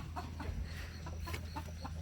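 Turkeys on a poultry farm, giving soft, repeated clucks and short calls at a moderate distance over a low steady background hum.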